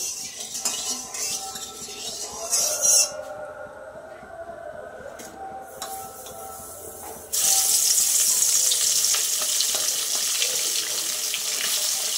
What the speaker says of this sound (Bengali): মাছগুলো আগে ভেজে নিই